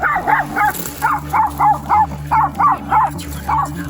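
A small chihuahua yaps in a quick run of about ten sharp, high barks with a few short whimpers between them, close and loud against a low background hum.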